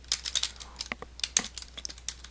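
Quiet, irregular clicking of keys on a computer keyboard, with short bursts of taps and brief pauses, close by and with no voices.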